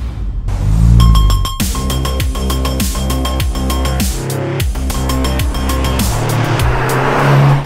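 Racing cars running demo laps at the Barcelona circuit, loud engines rising and falling through rapid gear changes as cars pass near, a dense continuous roar with repeated sharp shifts.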